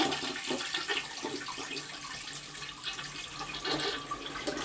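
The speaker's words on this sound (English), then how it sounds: "we are going to drain out the tank by flushing it." A toilet is flushed to drain its tank during a repair: a close, steady rush of swirling water runs unbroken for several seconds, with no voices.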